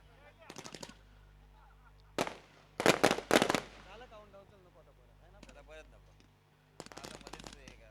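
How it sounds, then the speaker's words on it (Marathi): Firecrackers burst at the opening of the Alibag Premier League cricket final, crackling in several rapid volleys spread across the clip, with a commentator's voice in the quieter gaps between them. "पहिला फटाके फुटतील."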